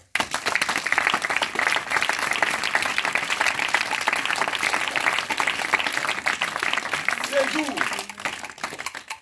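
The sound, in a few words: audience applauding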